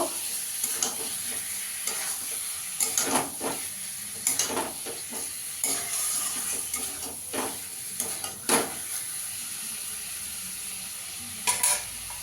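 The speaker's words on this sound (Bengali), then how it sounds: "এবার এই পটলটা ডিমটা দিয়ে দেব, দিয়ে ভালো করে সঙ্গে কষিয়ে নেব" Pointed gourd and eggs being stirred into a spiced masala in a pan, with a steady sizzle of frying in oil and repeated scraping and clattering strokes of the spoon against the pan, close and loud.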